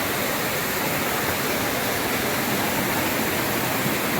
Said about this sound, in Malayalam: നല്ല ഒഴുക്കുള്ള വെള്ളച്ചാട്ടമാണ്